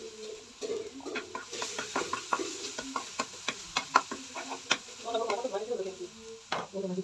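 Chopped onion and garlic frying in a pan until lightly browned for a prawn curry with taro stolons, a low sizzle punctuated by frequent sharp spatula taps and scrapes, with a voice speaking briefly toward the end.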